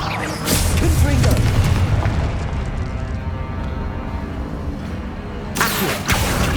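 In Hogwarts Legacy combat, a Confringo blasting spell goes off as a deep, rumbling boom, followed by sustained loud battle din and a sharp burst near the end.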